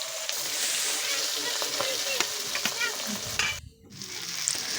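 Tuna fish pieces fry in hot oil, giving a steady, dense crackle and sizzle with scattered pops and a brief pause near the end.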